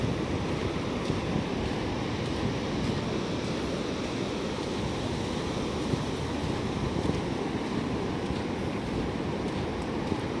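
Steady surf and wind noise at Thuy Van beach in Vung Tau, a continuous broadband roar of waves mixed with gusting wind buffeting the microphone, with no talk.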